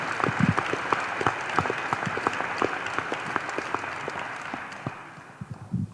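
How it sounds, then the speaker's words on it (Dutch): Applause at a football club press conference: a small group clapping, with distinct individual claps audible in a steady rhythm, tapering off near the end. "Ook een applaus voor deze heren."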